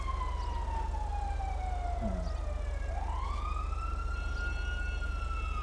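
Police car siren from GTA 5 wails in long rising and falling sweeps, loud and steady over a constant low engine drone, with a brief short chirp in the middle.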